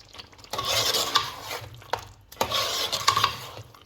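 Meat and spices being stirred in a cooking pot for a mung dal meat roast, with two long bursts of close scraping and stirring, light clatter of the utensil against the pot, and a soft sizzle underneath.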